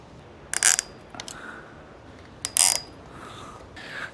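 A ratchet clicks in two quick bursts with a pause between them as a fastener is tightened during outdoor kitchen construction, with faint mechanical creaks in between.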